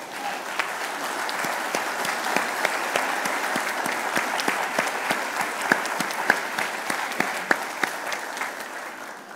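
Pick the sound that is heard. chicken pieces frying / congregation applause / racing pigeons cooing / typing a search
congregation applause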